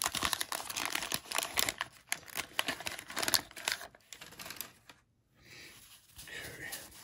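A 1989 Topps football card wax pack wrapper crinkles and tears open up close in bursts of sharp crackling, fading to a short quiet gap and then softer rustling.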